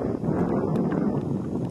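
Wind gusts across a stalled boat drifting mid-river on the Danube, a steady loud rumbling buffet close on the microphone with no one speaking.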